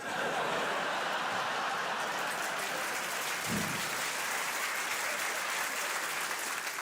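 A stand-up comedy audience breaks into sustained, even applause that holds steady and fairly loud throughout, with no speech over it.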